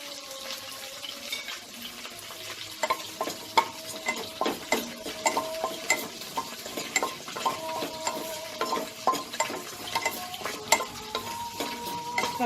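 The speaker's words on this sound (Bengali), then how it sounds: "এবার এতে আমি কালো জিরেটা দিয়ে দেবো। এটা শুকনো খোলাতেই ভেজে নিতে হবে।" Black cumin (kalo jeere) dry roasting in a hot kadai, with a soft dry crackle under repeated scraping and stirring strokes that clatter in an uneven rhythm, close and moderately loud, with no talking.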